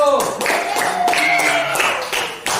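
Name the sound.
applause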